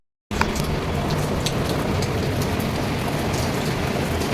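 Steady rain pours down after a brief silence, a dense, even patter of drops on surfaces that stays loud and unbroken throughout.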